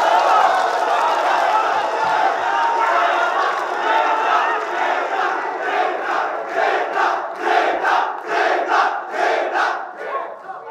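Crowd at a Filipino rap battle roars and cheers steadily, and one hype voice shouts repeatedly above it; rhythmic chanting bursts swell toward the end.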